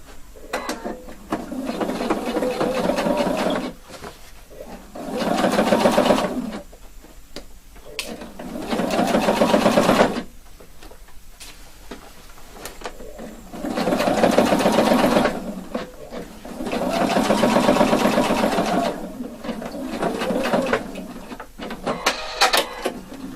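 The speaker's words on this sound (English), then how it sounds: "now I can just stitch it 2 millimeter from the edge to keep it" A sewing machine stitches the edge of a lapel collar about 2 millimetres in, running in several loud close bursts of steady whirring separated by short pauses.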